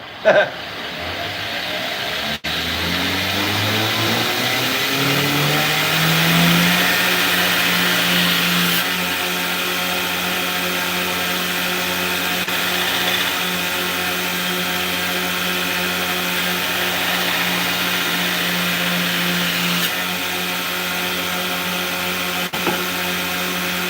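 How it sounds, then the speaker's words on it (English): A bench grinder spins up and grinds steel on a chef knife blade, a loud sustained whine with a steady hum running throughout, starting with a rising pitch sweep and continuing without pause. "Grinder's loud."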